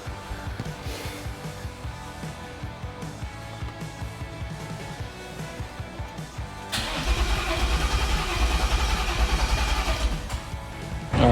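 A truck engine cranks over, then catches and runs at a rough idle, the steady engine sound rising sharply about two-thirds through and staying loud and close to the end.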